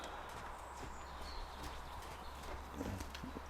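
Horse hooves clip-clopping at a quickening pace during groundwork in a riding arena, steady hoofbeats heard at moderate distance under a constant low background rumble with no talk.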